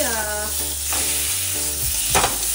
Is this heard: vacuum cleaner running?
no